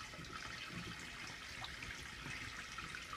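Quiet, continuous splashing and trickling of bath water as a baby plays in the tub, a soft steady wash of water with small splashes and no talking.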